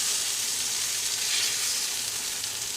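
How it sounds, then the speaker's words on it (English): Chicken cutlets sauté in a hot pan, giving a steady, close, dense hiss of sizzling oil that holds constant throughout with no talking. "I'm just sauteing to get a little browning on the other side"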